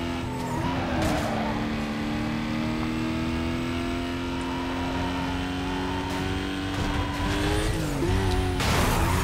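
Race car engine in Need for Speed Most Wanted (2005) revving and accelerating loudly, with a sustained rising engine whine, brief tire squeals and skids near the start and end.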